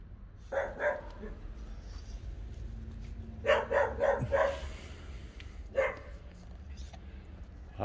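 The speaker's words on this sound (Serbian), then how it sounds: "Izuzetno jak, izuzetno jak pas." A strong dog barks outdoors on a cold winter day, giving short clustered bursts of barks near and loud, with quieter gaps and low background rumble between them.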